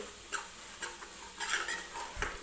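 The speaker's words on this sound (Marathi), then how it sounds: "1-2 मिनिटं सुरुवातीला आपल्याला हा रवा भाजून घ्यायचा आहे तुपामध्ये" Semolina roasting in ghee in a kadhai for moong dal halwa: soft scraping and light metallic clinks of a spoon against the pan, quiet and intermittent over a faint sizzle, with no talking.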